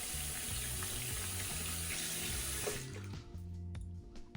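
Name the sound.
rinsing a vintage razor under a running faucet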